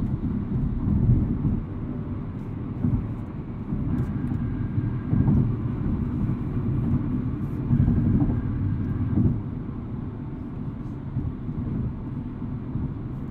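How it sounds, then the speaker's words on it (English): Cabin of a 2020 BMW M235i Gran Coupe cruising at 70 mph at about 2,000 RPM, a steady low road and engine rumble with mild swells, fairly loud and continuous, no one talking. "I'll let you hear what the car sounds like at 70 miles per hour."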